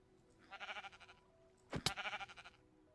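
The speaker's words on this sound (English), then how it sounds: "the sheep just dies like the cow." Minecraft sheep bleating as it dies, with a death animations addon, two short wavering bleats separated by a sharp hit sound, close and clear with no talk.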